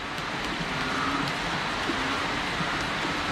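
Rain falls steadily, a soft continuous hiss of drops with faint scattered taps and no voices.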